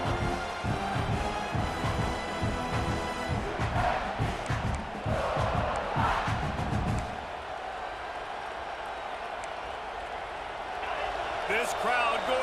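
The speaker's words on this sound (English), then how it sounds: "This crowd going to try to make life miserable for these guys." Stadium crowd roaring loudly in EA Sports College Football 26, a dense continuous wall of cheering with rhythmic thumps early on, easing slightly midway then swelling again.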